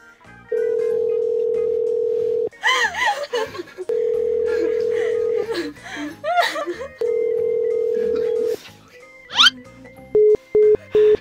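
A phone call's ringback tone sounds in three long, steady beeps separated by pauses. Between the tones, people laugh and chatter nearby.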